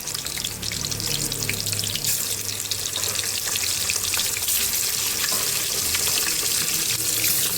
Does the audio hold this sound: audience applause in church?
no